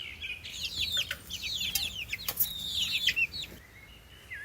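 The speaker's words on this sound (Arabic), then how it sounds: "كتكوت." Chicks chirp in thin, high peeps mixed with low clucking and a brief flutter of wings, moderately quiet and steady throughout.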